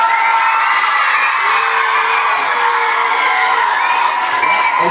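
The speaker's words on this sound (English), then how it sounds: "Let's do another round of applause for Officer Bires" Children in a school crowd shout, whoop and cheer loudly and continuously for a police officer during Red Ribbon Week with Azusa Police, the dense mass of young voices filling the scene with little clapping audible.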